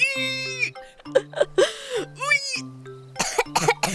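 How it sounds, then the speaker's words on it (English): Several harsh coughs break up strained, vocal sounds with a sharp final burst of coughing near the end. "making that sound made me cough"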